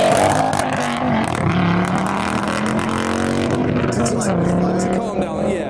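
A Ford Focus ST exhaust revs loudly by a roadside where modified cars gather, its engine note rising and falling in sustained revs, with someone talking over it.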